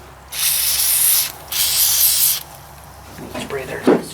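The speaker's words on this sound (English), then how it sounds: "Guess it wouldn't hurt to spray that a little bit." Two bursts of pressurized liquid spray hissing onto old equipment, loud and close, separated by a short pause, followed by quieter handling noises and faint clatter.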